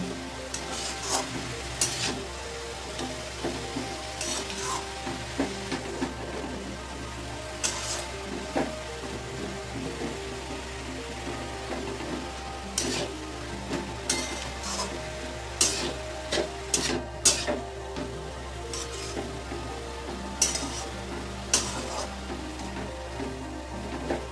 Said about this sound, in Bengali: আমি গাজরটাকে খুব ভালো করে এই ঘিয়ের সঙ্গে আর এলাচ দারচিনি তেজপাতার সঙ্গে ভালো করে ভেজে নেব।